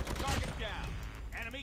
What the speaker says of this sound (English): Someone's shooting me off on the side.